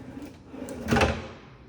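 A soft-close drawer slides shut in a home kitchen with a quartz countertop, giving one smooth, muffled close near the middle of the clip over faint room background.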